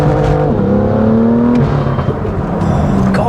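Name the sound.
fast car accelerating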